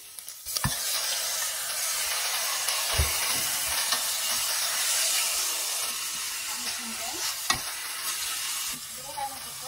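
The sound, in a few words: beef added to sizzling pan with onions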